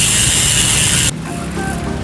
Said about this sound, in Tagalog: na-review naman yung tunog ng hubs